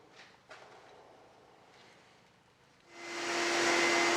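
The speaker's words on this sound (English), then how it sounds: "I then turned to my disc sander to clean up the bottom" Disc sander starting up to clean the bottom of a turned wooden salt and pepper mill caddy, a quiet shop and a few faint knocks, then a rising whir that holds as a loud steady hum.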